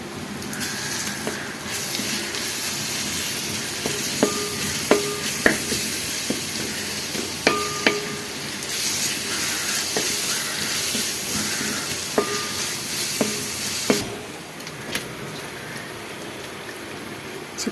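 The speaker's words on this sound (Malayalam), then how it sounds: "ആ പേസ്റ്റ് ഇതിലേക്ക് ഇടണം. അതും നന്നായി വാടണം." A paste of pepper, ginger, garlic and green chili sautés in a pan with a steady, close sizzle, broken by scraping stirs and a few sharp clinks of the spoon against the pan, with no talk.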